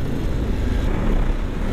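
A KOVE 800 Adventure motorcycle engine revs steadily and loudly up close, a dense low rumble holding throughout with no voices.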